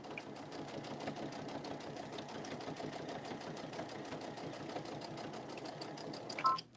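A sewing machine runs steadily, stitching small quilt patches in a continuous, even buzz with a rapid needle rhythm throughout, ending in a brief louder clunk.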